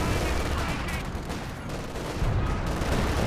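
Sniper and machine gun fire from the real-time strategy game Company of Heroes 2, a dense continuous wash of gunshots and battle noise that stays loud throughout with no clear pauses.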